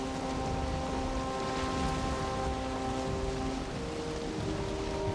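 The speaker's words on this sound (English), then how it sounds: "Hopefully the ocean has a different weather than the plains. The rains should stop." Steady rain falls in the survival video game Valheim while sailing at sea, a constant dense patter with a faint tonal hum underneath and no voices.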